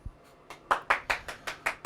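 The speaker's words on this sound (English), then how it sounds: "Frank's applauding in the background" A person named Frank claps in the background of a room, giving a short run of about seven quick, even handclaps, moderately close and alone.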